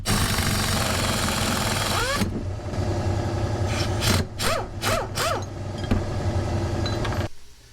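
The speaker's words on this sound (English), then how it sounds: "that's what you're going to use to remove that pulley right there" A puller tool works a power steering pulley off the pump on a 7.3 OBS Powerstroke, giving close metallic clicks, scrapes and a run of squeaky ratcheting bursts over a steady background hum.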